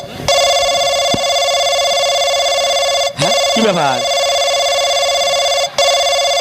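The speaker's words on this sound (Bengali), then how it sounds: "এই ফোন আইলো কার আরে ফোন আইছে কার" A telephone rings with a steady, loud electronic tone that holds through the whole stretch, broken only by two brief dropouts, while a voice speaks over it briefly near the middle.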